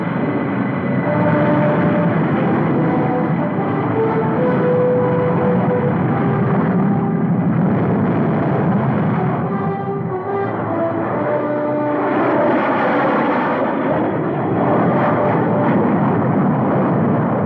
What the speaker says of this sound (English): Three unidentified transport planes.